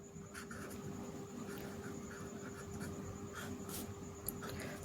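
Pen scratching on paper in faint, irregular strokes while working out a physics problem, alone against steady low background hiss.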